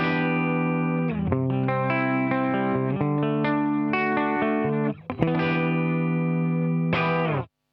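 An electric guitar played through a compressor pedal with no EQ or other effects plays sustained, even-level chords and notes with a smooth, compressed tone, briefly cutting out before ringing out again and stopping.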